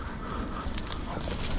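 A hunting dog out in a dove field, heard up close with faint whimpers and rustling over steady outdoor noise; no one speaks.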